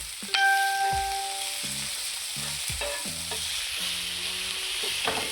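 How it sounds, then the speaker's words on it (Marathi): Tomato and capsicum sautéing in oil on a hot tawa for a masala pav street snack, a steady bright sizzle with occasional metallic scraping and clinks of the spatula against the pan, close and without talk. "आणि त्यावरच टमॅटो आणि शिमला मिरची यांना पण व्यवस्थित असं तेलावर परतायचं"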